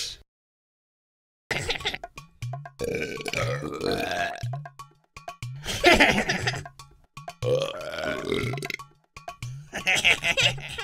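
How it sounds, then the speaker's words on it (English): A children's alphabet learning app plays a burp sound effect: several loud, close belches in a row, separated by brief silent gaps. "Belch is another word for burp."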